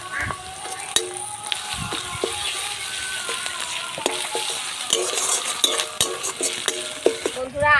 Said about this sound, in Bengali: এবারে পেঁয়াজের ভিতরে আদা রসুন বাটাটা দিয়ে আরো 2 মিনিট আমি ভেজে নেব